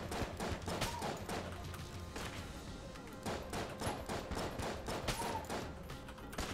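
Dense, continuous barrage of gunfire as a boss in Enter the Gungeon spawns masses of bullets, rapid overlapping shots forming a loud, steady fusillade throughout.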